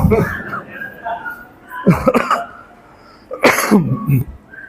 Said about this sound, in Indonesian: saya udah mulai batuk